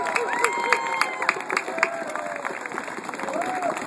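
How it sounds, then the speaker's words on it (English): At an outdoor fracking protest in Columbus, a crowd claps in scattered, uneven bursts with some cheering, moderately close, against a backdrop of other sounds. "let's give a big round of applause to our champions here"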